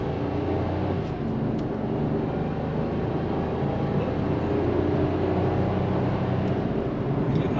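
Steady, even road and engine drone from inside a Pontiac Grand Am on a test drive after a wheel bearing replacement, continuous and fairly quiet with no clear knocking or whine, and no talk.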